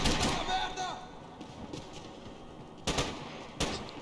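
Gunfire in the video game Max Payne 3 arrives as a couple of sharp, fairly quiet shots near the end. Someone talks over a low game backdrop.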